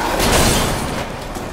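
A landmine explodes in the video game Resident Evil Village, giving a loud, dense blast of noise that fills the whole short moment.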